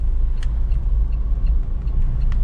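A car creeps along on half clutch through a turn, its engine giving a steady low rumble from inside the cabin with faint road noise and no talk.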